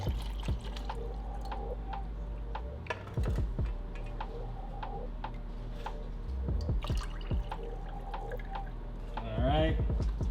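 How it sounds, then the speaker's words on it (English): Tea poured from a Milkbox boba tea kit into a cup holding boba pearls, heard as a close liquid pour with small clinks and knocks, mostly under a person talking. "Let's put some tea in."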